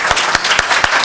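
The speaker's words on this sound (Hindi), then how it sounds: "सबसे पहले तो मैं एक तालियां पुरजोर बजाइए फहमीदा रियाज साहिबा के लिए।" Audience applause at a poetry recital during the Karachi Literature Festival 2013, a short, dense burst of clapping with a few sharper claps standing out, loud and close.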